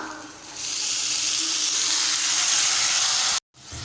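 Six medium chopped tomatoes sizzle in hot tempering as they are stirred in. A loud, continuous hiss fills the clip, close up, and breaks off abruptly just before the end.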